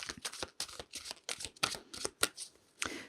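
Tarot cards being shuffled by hand, close and crisp, in a rapid series of riffling, slapping bursts with brief pauses between them.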